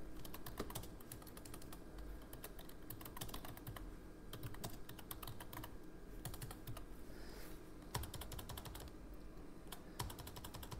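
Steady typing on a computer keyboard while entering text into Notepad, a continuous run of quick, close key clicks with brief pauses and bursts throughout.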